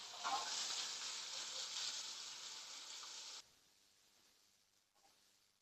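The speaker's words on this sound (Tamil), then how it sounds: "வெங்காயம் நல்லா வதக்கியாச்சுங்க." Onions sauté in a pan with a soft, steady sizzle and hiss for about three seconds, then the frying drops to a faint, quieter crackle.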